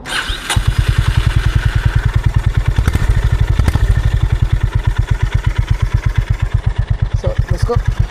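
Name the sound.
Honda CB350 motorcycle engine during ride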